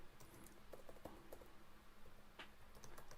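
Typing on a computer keyboard: scattered light key clicks in quick, uneven bursts, close and faint against a low room hum.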